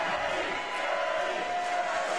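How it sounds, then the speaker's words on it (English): A crowd at a college bouldering national championship final in a Houston gym roars and cheers loudly and continuously, a dense wall of voices with a sustained shout ringing through it. "the crowd is just going absolutely wild"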